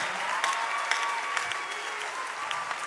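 Congregation applause at a church conference: a steady wash of many hands clapping, with a few sharper individual claps standing out above the crowd.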